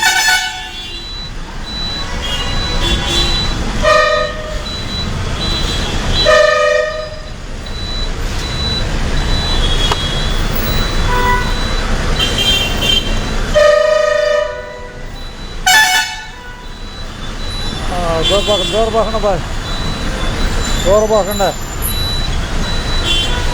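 Busy city road traffic in Vijayawada, with repeated loud car and bus horn honks over a steady engine and road rumble, while people talk nearby throughout.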